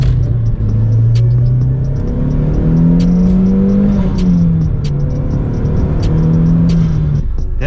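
An Audi TT 225 quattro engine running steadily after a new intercooler install, giving a smooth, even hum that is close, constant and fairly loud, with slight shifts in pitch and no talking over it.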